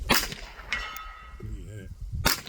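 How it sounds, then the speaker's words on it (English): A .22 rifle shot strikes a steel gong 100 yards away, giving a sharp crack and a brief metallic ring, followed by a second loud crack near the end. "there's a gong over there 100 yards. The gun over that direction. This rings loud."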